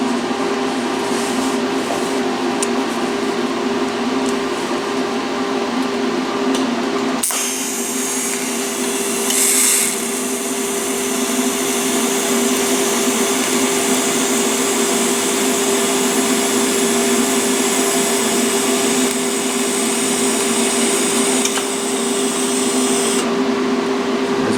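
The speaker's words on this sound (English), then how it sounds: "See how well this dirty, oily differential actually TIG welds." A TIG welder runs on a dirty, oily differential from a Dodge Ram 1500, giving a steady, continuous buzzing hiss with a low hum that holds for about 25 seconds. A brief break near the seven-second mark changes its tone slightly.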